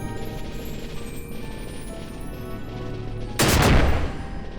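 A sudden explosion bursts in Final Fantasy XII The Zodiac Age, a single sharp blast with a short noisy tail over continuous game background sound and music.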